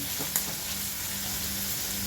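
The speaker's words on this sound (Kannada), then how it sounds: "ಇದು ಈರುಳ್ಳಿ ಚೆನ್ನಾಗಿ ಬೇಯಿಸ್ಕೋಬೇಕು ಒಗ್ಗರಣೆಯಲ್ಲೇ" Chopped onion frying in tempering oil for a North Karnataka chutney gives a steady, close sizzle with a faint stir or scrape near the start and no talk.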